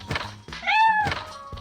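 A single clear cat meow in Toca Life World rises and falls, surrounded by a few dull thunks and knocks.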